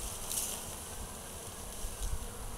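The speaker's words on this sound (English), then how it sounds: "there's a lot of bees coming back" A swarm of honeybees hums in a low, steady drone around the entrance hole they are returning to, faint and continuous with a slightly nearer pass near the end.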